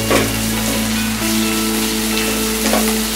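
Ginger and cumin sizzle steadily in a pan over a low flame, a continuous loud frying hiss with brief scraping bursts as the spices are stirred, no voices.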